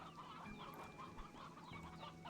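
Chickens cluck in the video game Slime Rancher, several soft, quick clucks and chatters overlapping at low volume over a steady hum.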